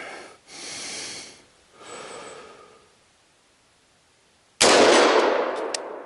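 A short-barreled rifle fires one sharp, loud shot on an outdoor shooting course. Quiet breathy rustling comes first, then a pause, then the crack with a ringing decay.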